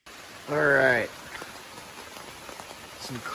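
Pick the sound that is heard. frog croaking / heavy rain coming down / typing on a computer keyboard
heavy rain coming down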